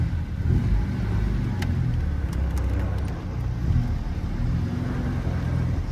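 A 1969 Alfa Romeo Spider Veloce pulls away smoothly in reverse, its engine a steady low rumble close by with a slight rise in revs, no voices over it.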